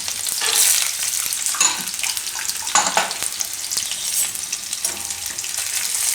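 Almonds and cashews frying in hot oil with chillies for dry fruit pava, a steady loud crackling sizzle with bursts of spattering, no voices.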